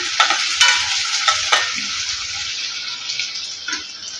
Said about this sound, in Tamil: வெங்காயம் சேர்த்துட்டு காரத்துக்கு பச்சை மிளகாயும் சேர்த்துக்கலாம் வதக்கி எடுத்துக்கலாம்